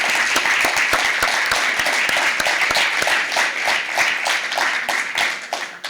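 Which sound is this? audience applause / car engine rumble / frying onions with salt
audience applause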